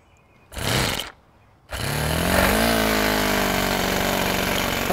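An O.S. .30 four-stroke model engine sputters briefly, dies, then fires up on its first run and settles into a steady, loud, high buzzing idle at about a third throttle.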